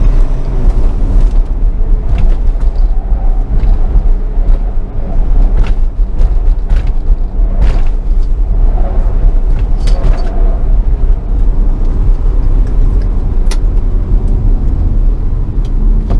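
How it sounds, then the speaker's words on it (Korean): Diesel engine of a Ssangyong Korando C 2.2 4WD rumbling steadily at low rpm, a continuous close, loud drone heard alone without talk. "회전수가 아주 낮은 상황, 그런 때는 약간 그 디젤 특유의 그런 소음 있잖아요"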